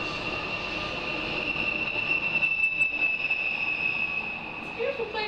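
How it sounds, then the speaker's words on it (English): A coal train rolls past on the southern line near a home kitchen, giving a steady, loud rumble with a sustained high metallic wheel squeal throughout, no voices heard over it. "And there goes the train."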